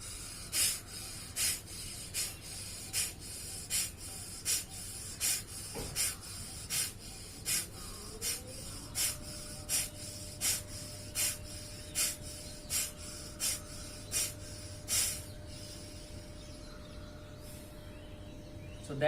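Forceful Adhyatmic Kapalabhati breathing exercise: a steady series of about twenty sharp, close nasal exhalation bursts at an even rhythm of roughly one per second, with no talking.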